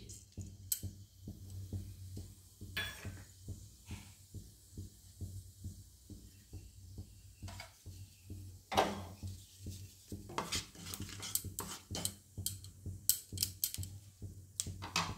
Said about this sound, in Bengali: আমি কালো জিরে আর সামান্য জোয়ান একটু ফোড়ন দিচ্ছি